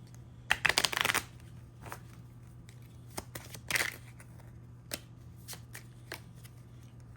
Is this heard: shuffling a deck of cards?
yes